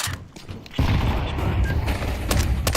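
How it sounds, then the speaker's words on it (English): A grenade blast in a shooter video game, a sudden loud boom followed by sustained rumbling crackle and scattered sharp bangs, after a quieter opening. "Grenade out."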